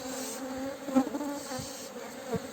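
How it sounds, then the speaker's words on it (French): A dense, steady buzz from a swarm of aggressive honeybees circling close around their beehive, loud and continuous with a few sharper passes near the ear. "une ruche qui est agressive, ça se voit direct par rapport à ces autres, aux autres colonies"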